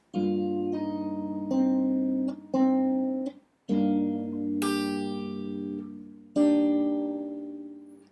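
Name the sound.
fingerstyle guitar playing part of a song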